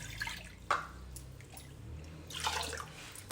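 Water is poured into a pot in two short splashing bursts, close by, with a quiet wet trickle between them.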